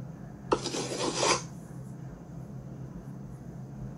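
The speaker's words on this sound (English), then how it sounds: "Cut the pizza in slices!" Pizza being sliced in a children's cartoon mobile game, a short rasping cutting scrape lasting under a second over a quiet humming background.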